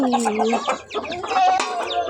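Local hens and chicks cluck and call close by in a farmyard at feeding time with barley grain, a busy overlapping chatter of short clucks and higher peeps.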